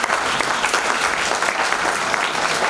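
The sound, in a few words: audience applause at festival opening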